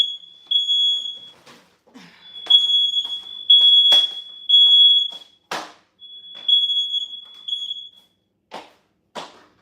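A kitchen smoke detector set off while cooking shrimp and potatoes sounds in loud, piercing, repeated high beeps, broken by clattering and thumping sounds in between, with no one talking.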